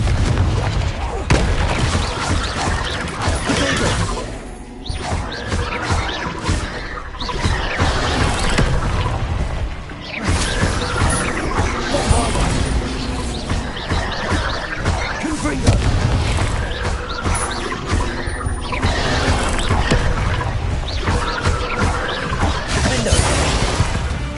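A Confringo fire spell blasts in Hogwarts Legacy amid a dense run of heavy booms, crashes and explosive impacts that keeps up without a break, loud and close, while a voice calls out spell names over the din.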